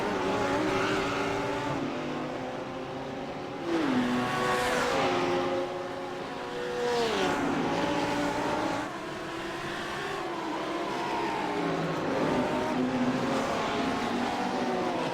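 GT3 race cars roar past on the Detroit street circuit one after another, engines rising and falling in pitch as each passes, loud and sustained with overlapping Doppler sweeps.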